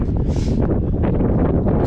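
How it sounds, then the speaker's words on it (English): Wind on the summit of Windom Peak in the Chicago Basin gusts steadily across the microphone as a dense, continuous low roar, loud and close throughout. "It's gonna get windy when I poke over here."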